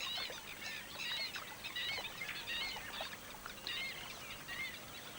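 A chorus of spot-billed ducks chatters continuously at moderate distance, layered quacks and squawks over a steady outdoor background.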